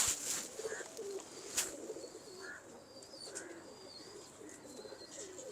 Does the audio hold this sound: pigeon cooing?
yes